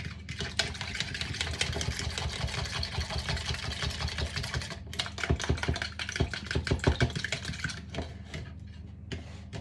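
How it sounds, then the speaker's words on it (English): A fork whisks treacle scone mixture in a bowl, giving a steady run of quick, close clicking and scraping strokes that speed into sharper, denser taps near the end, with no talking. "And then just start whisking that with a fork."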